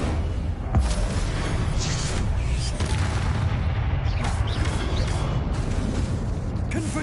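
Incendio fire spell cast in Hogwarts Legacy, heard as dense, loud whooshing bursts and booming blasts over a constant rumbling game mix, with a voice faintly present.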